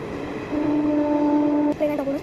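A passing train sounds a sustained tonal horn blast of about a second and a half, followed by a shorter second blast, heard clearly from nearby over a low rumbling background.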